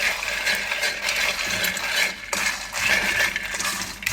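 A metal spoon scrapes and clinks against a pan while roasted lotus seeds and pepper are stirred, giving rattly, gritty strokes in an uneven rhythm with a brief pause midway.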